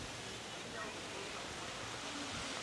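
A fountain at the end of a waterfront promenade in Old Town San Juan, Puerto Rico, splashes in a steady, faint, broadband wash of falling water with no breaks.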